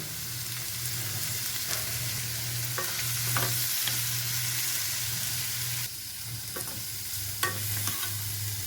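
Steady sizzling and crackling of potatoes frying in a hot pan, with occasional scraping stirs and a low hum underneath; no talking.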